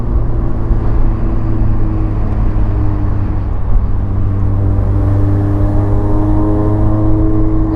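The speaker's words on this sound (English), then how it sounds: "This car downshifts so nice." Engine drone of a supercharged Mazda MX-5 on a mountain road through Lytle Creek in San Bernardino National Forest, a steady loud hum from inside the car whose pitch shifts as it downshifts.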